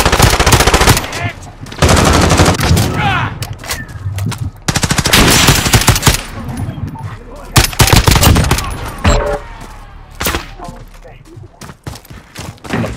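Call of Duty: Modern Warfare gunfire rattles in loud, dense automatic bursts with scattered single shots and thuds. Players talk over the shooting throughout.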